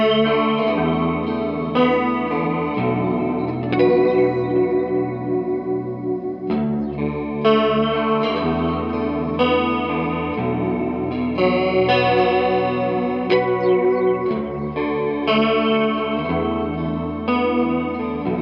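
A baritone Telecaster electric guitar played through chorus, distortion and echo effects, producing a continuous swirling wash of spacey sustained chords and shifting notes with no voices.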